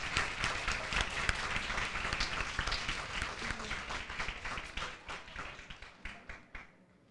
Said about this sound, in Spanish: Un muy fuerte aplauso para los alumnos de la comunidad educativa.